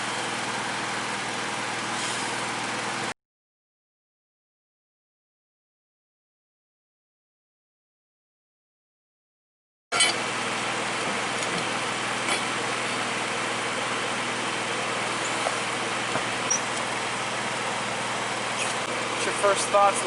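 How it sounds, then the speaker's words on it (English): A generator and blower run beside an RV during a heavy-duty truck brake and drum change, making a steady engine-like drone that drops to silence for several seconds midway and then resumes. "see how loud that generator and blower is"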